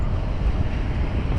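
Steady wind buffets the microphone on a street in Clarksdale, Mississippi, on a lightly rainy, breezy day, a constant low rumble with no voices.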